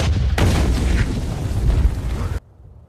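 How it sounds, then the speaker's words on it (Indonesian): A landmine blast in a war film about boys clearing mines, a loud broadband roar that bursts in, rumbles heavily for about two seconds, then cuts off to near silence. "Werner hancur meledak bersama ranjau itu."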